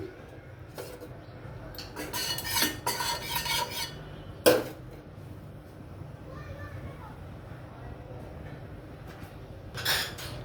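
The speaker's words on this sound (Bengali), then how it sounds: "আমি কড়াইটা চড়িয়ে দিলাম।" In a home kitchen, a wok is set on the stove to fry chicken for shawarma. Several sharp metallic clanks of pots and utensils sound in short bursts against a quiet background, with occasional speech.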